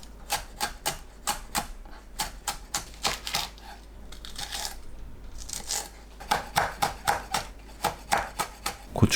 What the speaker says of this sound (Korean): 청양고추를 작게 썰어주세요.